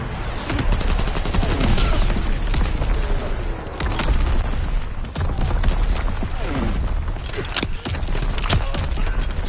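Submachine gun fire in Call of Duty WWII rattles almost nonstop in loud, rapid bursts, with heavier booms and sharp cracks mixed into a thick, chaotic multiplayer firefight.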